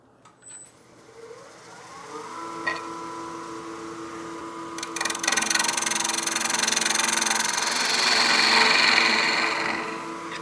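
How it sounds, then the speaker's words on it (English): Wood lathe spinning up and running steadily while a witch block head is trued up, a rising motor whine settling into a loud continuous hum, with a broad scraping cut building over the second half, close and alone. "I'll bring my tool rest around. That way we can true up this surface."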